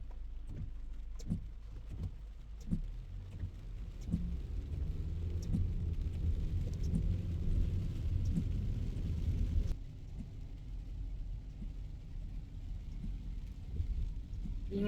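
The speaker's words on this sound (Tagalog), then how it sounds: "It's raining." Rain falls on a car during a drive to work, a steady low rumble and patter inside the cabin with a few soft thuds early on, easing slightly toward the end.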